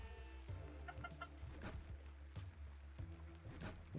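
Chickens clucking at a coop in the video game Necesse, faint, repeated short clucks over a steady low background and soft game music.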